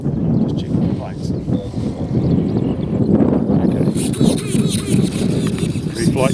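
Strong wind buffets the microphone with constant low rumble at an RC plane flying field, with a voice talking over the gusts.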